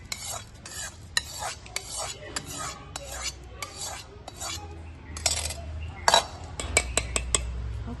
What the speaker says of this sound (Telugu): పోపు చల్లారింది, ఇందులో కలిపేస్తున్నాను నేను.